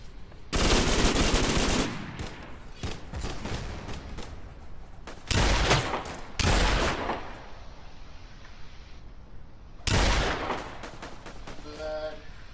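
Rapid bursts of gunfire from a Roblox VR shooter game, loud and close, with dense automatic fire in several blasts separated by quieter stretches of ongoing shooting.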